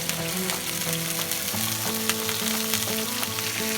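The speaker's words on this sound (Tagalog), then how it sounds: "Ang mantika. Lagyan na natin yung ating pink salmon." A pink salmon head fries in cooking oil at an outdoor backyard cookout, a steady close sizzle with sharp crackling spits and occasional stirring scrapes, fairly quiet overall and without talk.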